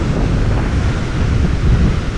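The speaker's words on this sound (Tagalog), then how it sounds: "Grabe pressure ng hangin." Strong wind roars into the microphone by the water, a loud continuous broadband rush with possible surf underneath.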